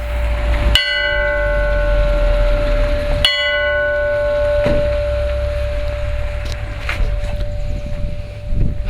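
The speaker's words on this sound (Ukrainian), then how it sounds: "Незвичний дзвін можна почути в центрі Ямполя." A large bell in Yampil, Ukraine, rings twice, each deep clang followed by a long, slowly fading hum, with faint background noise between strikes.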